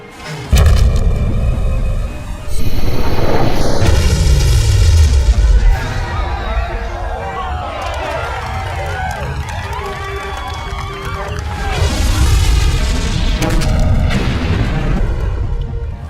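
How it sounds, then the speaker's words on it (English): Warship main guns firing in an action film battle, heavy booming blasts and rumbling explosions layered with chaotic effects and score, loud and continuous. "Target that ship! Fire main guns!"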